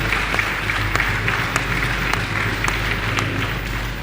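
Crowd clapping at a presidential town hall in Makeni, a steady wash of many hands with scattered sharper claps over a constant low background rumble, sustained throughout.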